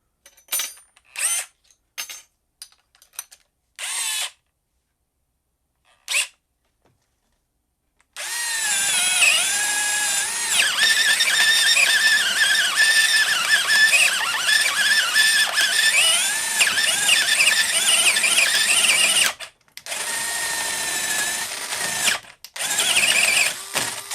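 An old cordless drill converted to lithium battery power whirs in short bursts, then runs at full speed for a long stretch, with a brief stop and a few more bursts near the end, close and loud with no talking.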